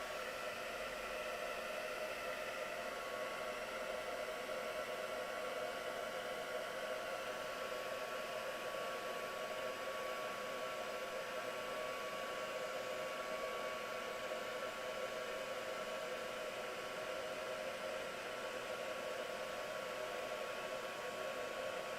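A heat tool warms clear embossing powder on a hedgehog stamped card, giving a faint, steady airy hiss that continues unchanged for the whole stretch with no talk.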